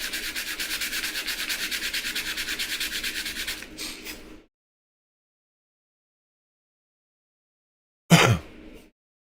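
A knife blade is sanded by hand with a steady, rhythmic rubbing for about four seconds, close and fairly loud. A pause follows, and a short scrape closes the clip.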